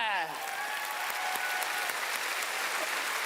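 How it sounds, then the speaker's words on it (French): Audience at a French-language comedy gala breaking into loud, sustained applause that carries steadily for several seconds. "on applaudit Réjard."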